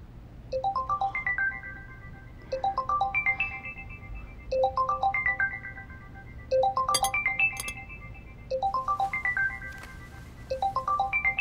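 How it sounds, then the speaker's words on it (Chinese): A phone ringtone plays loud and close, a repeating rising melodic chime pattern in regular bursts with short pauses between, no talk over it. "如果不是重要电话，要不然先别接了"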